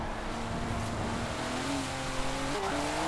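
A car drifting at high speed in Forza Horizon 4, its engine holding a loud sustained high rev with gear-shift pitch steps and a faint tire squeal under a constant wind-like roar.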